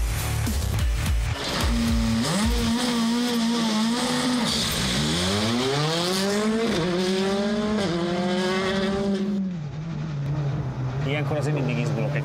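A Hyundai i20 R5 rally car engine revs hard and close, its pitch sweeping up and down, with popping bursts as the throttle lifts off.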